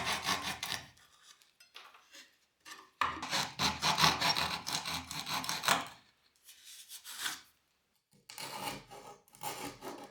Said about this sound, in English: I need to take this adapter plate I'm making out of 1/4-inch plywood and have to cut a notch for that bracket that's hanging down on the front